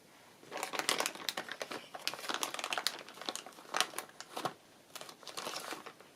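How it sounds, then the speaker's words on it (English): Washi tape and paper crinkle and rustle close by while a book-page writing bundle is assembled, a run of quick irregular crackles and rustling bursts with short pauses between them. "I choose my final piece of washi tape."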